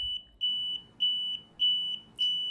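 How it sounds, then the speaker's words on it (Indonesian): A homemade Arduino anti-theft alarm with a piezo buzzer sounds loud, piercing repeated beeps, about four pulses in two and a half seconds, each rising and cutting off in a steady pattern, with no voices. "Ini rumah gue sempat diinstal alarm anti pencuri gitu."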